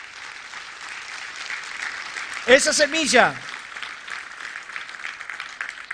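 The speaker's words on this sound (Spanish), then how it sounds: "¿Le puede dar un fuerte aplauso a Dios?" Loud church congregation applause runs steadily through the clip, briefly overlaid by a preacher's voice speaking near the middle.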